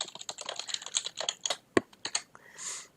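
Rapid keystrokes clatter on a computer keyboard as a message is typed, a close, uneven run of clicks with a brief pause near the end and no voices.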